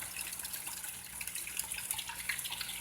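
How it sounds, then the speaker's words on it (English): Water pouring steadily out of a siphon outlet in a home-built aquaponics setup, a continuous close splashing trickle with no talk. "So that's running as a siphon as well"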